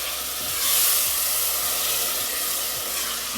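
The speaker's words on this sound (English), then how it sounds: "Now I'm going to add tomato." Tomato going into a hot pan of bottle gourd brings a loud, broad hissing sizzle that swells briefly near the start, then settles into a steady frying hiss with faint clinks.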